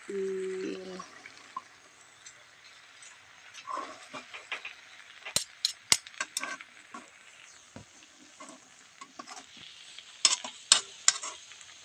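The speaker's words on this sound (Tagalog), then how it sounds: "Tapos, halo-haloin." Vegetables being stirred in a frying pan, with scraping and clicking strokes of the utensil over a steady sizzle, close and moderately loud, coming in uneven bursts throughout.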